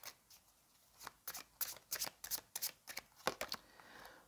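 Tarot cards are shuffled close up: a quick series of soft riffling snaps and slaps in an uneven rhythm, quiet and with no talking.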